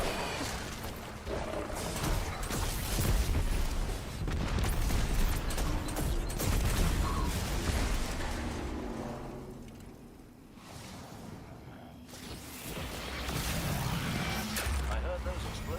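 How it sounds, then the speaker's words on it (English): Explosions as a mining lander ship is destroyed in the video game Destiny 2, rumbling blasts and crashing debris in a dense burst of game noise, with a voice talking over them throughout. "I heard those explosions from here."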